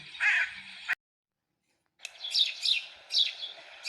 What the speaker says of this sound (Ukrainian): Горобчик чирикає.